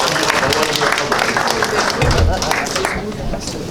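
A church audience applauds loudly to welcome a pastor, a dense wash of clapping with crowd noise and murmuring voices throughout.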